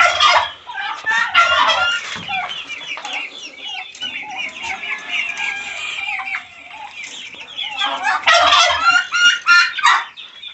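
A turkey gobbles loudly and repeatedly up close in a farmyard, its rapid warbling calls coming in bursts, mixed with clucking from nearby poultry and chicks.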